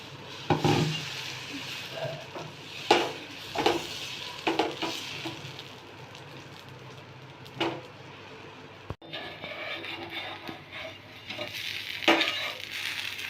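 A ragi finger millet dosa cooks on a pan, giving a soft steady sizzle with a few scraping stir or spatula taps against the metal, close by and without speech.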